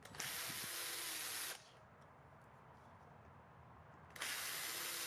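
Cordless power drill backing out Phillips head screws from the tail section of a Kawasaki Ninja 400 / Z400, two close, steady whirring bursts of about a second and a half each separated by a quiet pause, no talking.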